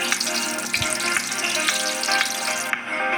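Eggplant omelette (tortang talong) frying in a pan, a steady close crackling sizzle with small pops throughout and no voices.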